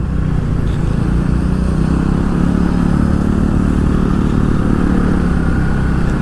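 Steady, loud road-vehicle engine noise, likely a motorcycle or car, on a mountain road toward Darjeeling in heavy rain. The low rumble holds constant throughout the clip with no talking.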